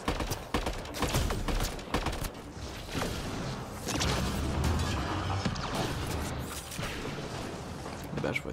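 Rapid bursts of gunfire from a friendly character in the Mass Effect Andromeda video game, dense crackling volleys and pops running throughout amid loud in-game combat clutter.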